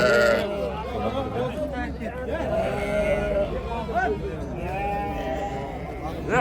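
Sheep bleating at a busy livestock market where sheep, goats and cattle are traded, several animals calling over steady crowd chatter and nearby talk.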